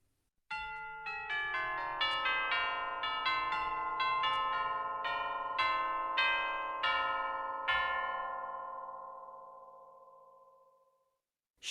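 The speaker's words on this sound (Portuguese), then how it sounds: "Carrilhão." Tubular bells strike a descending and rising sequence of bright, ringing tones that overlap and sustain, then fade out slowly after the last stroke.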